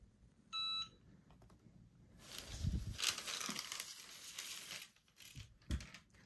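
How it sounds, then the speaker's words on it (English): A Cricut heat press gives a short electronic beep when its countdown reaches zero, a brief clear tone near the start followed by quiet rustling and handling noise. "pushing down with firm pressure until this counts down to zero and makes a beep"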